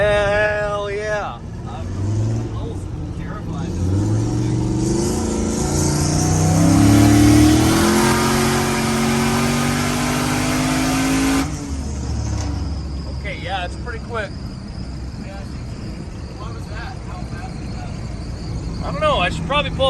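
A car engine revs hard at half throttle and climbs to a loud, rising roar before settling back to a rough idle, with voices talking nearby at the start and the end.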